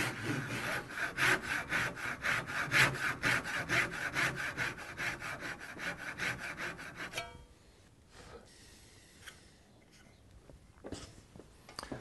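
A hand saw cuts wood for a butterfly key reinforcing a miter joint, close rhythmic rasping strokes for about seven seconds, then the sawing stops and a few quieter knocks and handling sounds follow.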